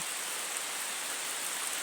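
Steady rain falls as an even, soft hiss throughout, fairly quiet and unbroken, with no voices.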